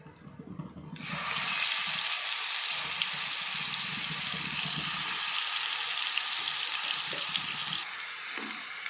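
After a moment of quieter clatter, ground garlic paste for garlic dosa hits hot home cooking oil and bursts into a loud, steady sizzle that holds close and continuous, with a few faint clinks near the end.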